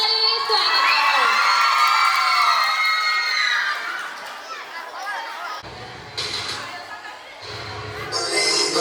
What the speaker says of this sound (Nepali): जोरदार ताली स्वागत गरौँ।